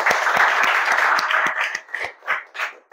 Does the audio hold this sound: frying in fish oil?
no